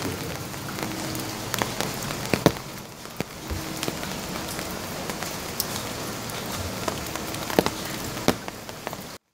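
Light drizzle falling outdoors, a soft continuous patter of rain on surfaces with scattered sharper drop ticks, fairly quiet and even throughout with no talking.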